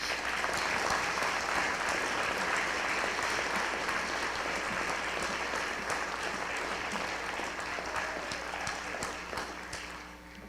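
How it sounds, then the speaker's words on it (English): An audience claps steadily and loudly at a high school senior honors night, a dense sustained round of applause that fades slightly toward the end. "Let's give them a big round of applause."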